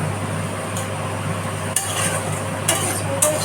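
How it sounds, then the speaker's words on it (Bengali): Spices and green chilli frying in a pan while a spatula stirs them: a steady close sizzle with occasional scraping clicks of the utensil against the pan, no voices. "এইভাবে মশলাটা একটু ফ্রাই হোক"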